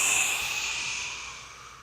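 Forceful exhaled swish of breath during a chair yoga session, a single airy, hissing whoosh that starts strong and gradually fades over about two seconds, with no talking.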